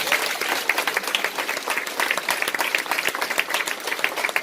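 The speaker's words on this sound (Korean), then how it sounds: "박수 한번 주실래요?" Audience applause at a success-story talk event, dense steady clapping from a crowd that holds strong and even throughout, with no voices on top.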